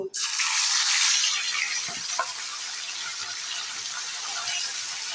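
Tilapia fish hitting hot white cooking oil in a wok give a loud, bright sizzling hiss that bursts up at once, then settles into a steady frying crackle with a few small pops.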